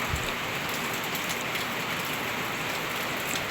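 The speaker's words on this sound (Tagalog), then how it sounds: "Sobrang lakas ng ulan mga palangga" Heavy rain pours down on a farm, a dense, steady hiss that stays loud and even throughout with no voices.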